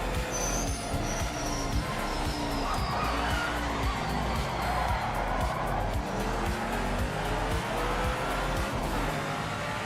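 Race car in the Project Motor Racing video game, a loud continuous engine roar with shifting revs and squealing tires throughout, no talking.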